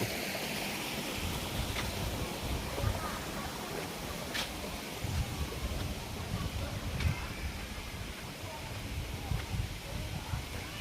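A small waterfall at a farm in Si Sawat, Kanchanaburi, rushes as a continuous broad wash of flowing water, steady and fairly close with no talking.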